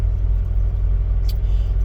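A semi truck's diesel engine idles as a steady, deep, loud rumble, unchanging throughout with no voices.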